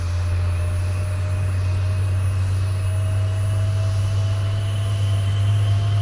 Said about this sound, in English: Now the engine's turning and burning.